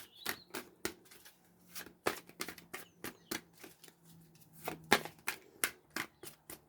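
Tarot cards being shuffled by hand, a steady run of sharp riffles and flicks repeating about every half second, close and fairly quiet, with no voices.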